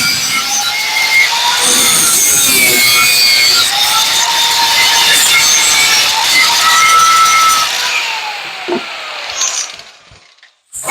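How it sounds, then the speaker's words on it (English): A power tool cuts the protruding ends off screws driven through pallet wood, whining steadily and loudly for about eight seconds before winding down and stopping, with no talk. "We are going to cut the ends off these screws."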